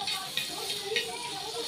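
Butter on a hot tawa gives a soft, steady sizzle with a few brief hissing spurts, faint and close, lasting only a moment.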